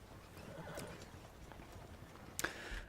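Horse in the video game Red Dead Redemption 2 heard amid soft game ambience, with one sharp, loud snort or whinny burst near the end of the short stretch.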